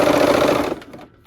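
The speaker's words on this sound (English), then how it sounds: "then we'll go sew at the machine" A sewing machine runs fast and loud for under a second while stitching a seam on a Christmas quilt block. It cuts off into a few quiet clicks and fabric rustles.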